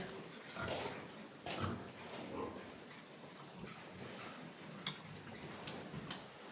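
Pigs grunt in a farm pen, low irregular snorts and oinks rising over a rustling, noisy background, with a few sharper clicks scattered through.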